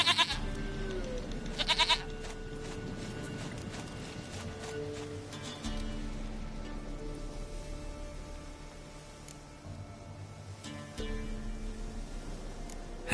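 Goat bleating in a fantasy video game, short repeated bleats near the start and again near the end over steady game music and ambient hum, no talk.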